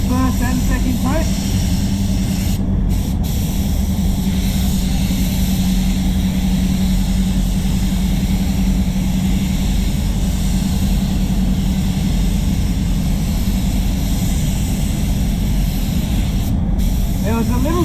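Steady hiss of a spray gun applying basecoat paint to a Mazda CX-9, continuous and close beneath someone talking, with a low hum underneath.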